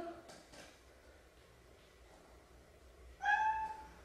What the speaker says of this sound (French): Ah, mon chat.